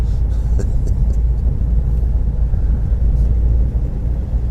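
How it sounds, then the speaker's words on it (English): Steady, loud engine and road rumble from inside a car driving from Dover to Folkestone on a 50 zone road, with faint traffic as a car approaches from behind, and no talking. "Car racing up behind me."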